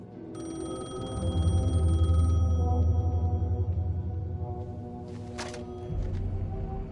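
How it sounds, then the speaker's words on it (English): A payphone rings in the video game Alan Wake 2, with steady repeated electronic ring tones sounding over a low droning ambient score, fairly loud and close, with no voices. "The payphone was ringing."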